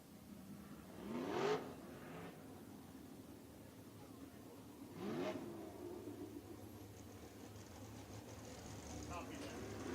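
USAC race cars lap Mohave Valley Raceway, each one swelling past and fading with a rising-then-falling engine whine. The passes come roughly every four seconds over a steady wash of distant track noise.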